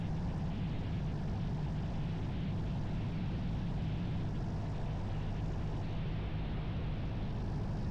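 Light aircraft flying slowly on full flap with a little power into a headwind, a steady broadband engine and propeller drone with wind rush, continuous and fairly even throughout, no voices.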